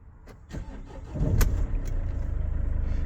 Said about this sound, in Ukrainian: Запускаємо двигун.